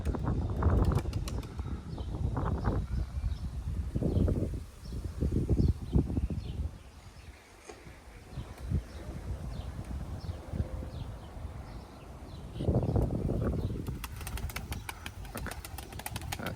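Young Kula tumbler pigeons flap their wings in bursts as they fly and land outdoors, with a steady rustling background and soft bird calls. Louder whooshes come near the start and again toward the end.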